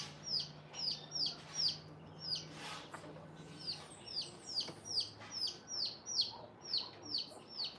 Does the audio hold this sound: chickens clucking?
yes